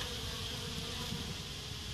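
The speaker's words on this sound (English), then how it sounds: "There's lots of bees with pollen here." Dense, steady buzzing of many honeybees carrying pollen around a top bar hive, heard close and continuous with no voices.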